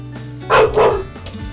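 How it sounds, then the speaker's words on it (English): A puppy barks to be let in, two or three short close yips and barks in quick succession, loud against a quiet indoor background. "Oh, there's my puppy trying to tell me she wants in."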